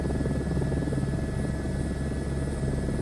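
Helicopter in the video game Microsoft Flight Simulator 2024: a steady, dense rotor and engine drone with a constant whine running throughout, loud and unbroken.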